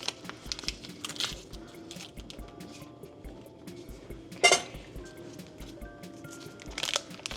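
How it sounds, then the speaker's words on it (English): Butter unwrapped from a sticking wrapper and dropped into a saucepan over medium-high heat: close crinkling and squishing with scattered light metallic clinks and one sharp knock, no talking. "Let's get our butter in here."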